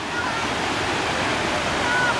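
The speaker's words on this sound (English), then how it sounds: "There's a waterfall here." An artificial waterfall pours over a dam in a large royal park, a steady close roar of rushing water that fills the whole short stretch without a break.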